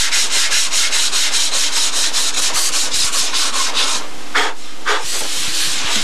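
A hand rubs back and forth over a car's painted surface, feeling for rough, sandpaper-like dry spots. A steady, close, rhythmic dry scrubbing with a few heavier strokes near the end, with no talk.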